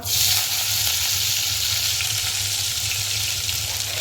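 Cumin seeds and curry leaves sizzle steadily in hot oil, a loud, close, continuous frying hiss that holds evenly throughout with no voices.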